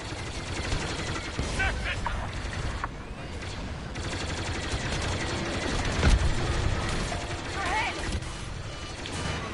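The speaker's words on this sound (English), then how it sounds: "Take out those defenses and watch its cannons go to work" Battle cruiser cannons firing during a space battle in a Star Wars game, a dense continuous barrage of blasts and rapid gunfire with mechanical clatter, loud throughout and peaking around the middle.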